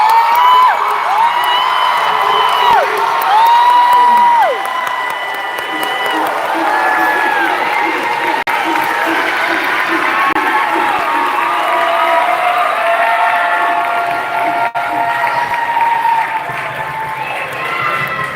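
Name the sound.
audience applause and cheering at graduation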